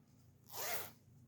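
The zipper on a vintage St. John jacket is pulled in one quick, soft stroke, close by in a quiet room.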